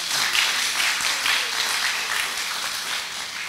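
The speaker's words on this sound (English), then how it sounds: "So again, one more round of applause for the debaters." An audience at a secondary school debate competition applauds the debaters, with dense, steady clapping filling the room throughout at a loud, even level.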